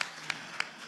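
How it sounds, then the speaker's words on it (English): Audience applause at a civic engagement panel during a summit: a steady, dense wash of clapping from a crowd, with a few sharper claps standing out at regular intervals. "let's give them a round of applause"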